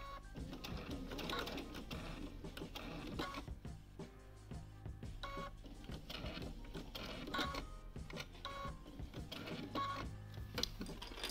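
A sewing machine stitches binding onto a quilt, its needle running in a steady rapid chatter with brief pauses and shifts in pace throughout, close and continuous.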